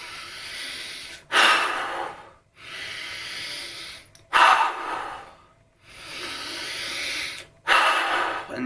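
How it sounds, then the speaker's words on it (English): Three deep, slow breaths taken during a pause between exercise sets, each a long airy inhale then exhale, close to the mic and loud, with short quiet gaps between them. "3 deep breaths."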